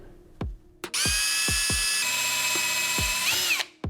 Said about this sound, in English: you're going to use your 1/16 drill bit and go ahead and drill that hole